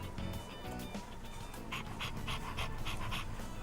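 Dog panting in the video game Persona 3 Reload, quick rhythmic breathy huffs with a few soft whimpers, close and clear with no talk over it.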